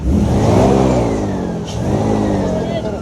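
A Yukon airboat engine revs under throttle, a loud, close, sustained engine roar that swells and eases slightly throughout.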